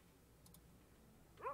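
Dog in the Pets Hotel video game gives a short burst of yelps and whimpers at the very end, after near-silent background with a couple of faint clicks.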